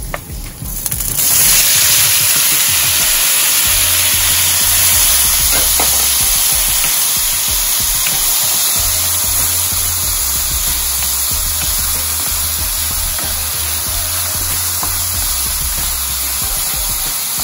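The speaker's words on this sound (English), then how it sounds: "Now we're gonna throw our tomatoes in." Tomatoes hit a hot pan beside searing fish and sizzle loudly and steadily, a bright continuous frying hiss with occasional stirring scrapes and a low hum underneath.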